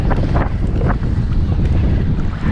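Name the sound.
wind blowing at sea around a kayak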